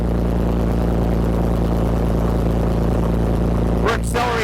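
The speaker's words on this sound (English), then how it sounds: "engine's got a lot of torque, so now we're in 4th gear, going up a pretty darn steep hill here" A car engine with plenty of torque pulls steadily up a steep hill in fourth gear, a loud, constant low drone with engine harmonics inside the cabin, and a brief higher whine near the end.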